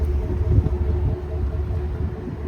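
A 2025 Chevy Suburban Premier with four chrome exhaust tips sits idling, its engine giving a low, steady rumble heard up close, with a slight swell in the first second.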